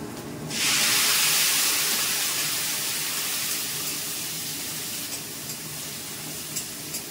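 Water poured into a pan of sizzling Kashmiri chilli and turmeric spice mix sets off a sudden loud hiss that then settles into a steady, slowly fading sizzle.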